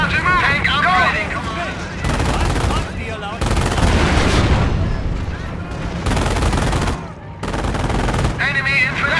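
In Company of Heroes, machine guns and rifles rattle in dense, continuous bursts with heavier booms mixed in, loud and close, broken by brief lulls while unit voices call out over the fighting.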